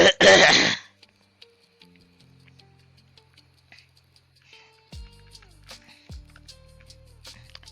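One person clears their throat in a short, loud, raspy burst, then quiet indoor ticks and a faint electronic tone follow with no talking.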